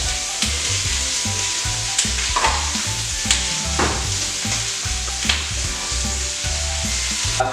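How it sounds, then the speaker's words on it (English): A whole sliced onion and a mix of yellow, red and green peppers fry hard in a pan on high heat: a loud, close sizzle with occasional scraping stirs and no talking. "Into that I'm going to put a whole sliced onion. And I've got a mixture of peppers here."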